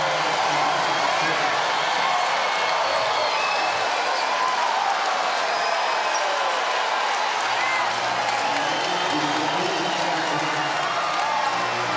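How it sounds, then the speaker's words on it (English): Crowd noise fills a basketball arena during Ohio State vs San Diego State, a dense, loud roar of cheering and applause that holds steady throughout, with a commentator speaking over it. "Listen to this crowd."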